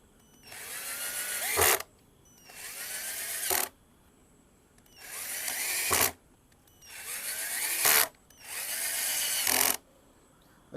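A power drill drives screws into the base of a wooden pallet table in five loud, close bursts of whirring, each around a second and a half long with short pauses between them.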